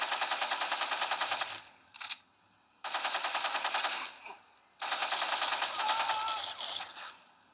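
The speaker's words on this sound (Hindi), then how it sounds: "तो पहले इस पर गोलियाँ चलाते हैं।" Automatic gunfire from weapons in the Gangstar Vegas video game rattles out in three long sustained bursts separated by brief pauses, loud and close with no speech over it.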